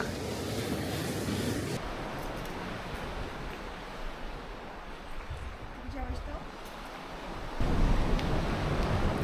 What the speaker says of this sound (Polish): Wystarczy zajrzeć za skały, tam gdzie rozbijają się fale i nanoszą mnóstwo muszli.